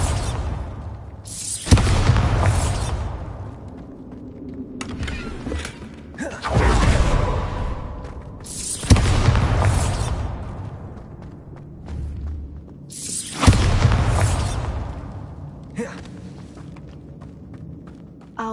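A Bombarda blasting spell in a Harry Potter video game, four loud booming explosions at regular intervals, each a sharp burst with a swooshing tail fading into low rumble.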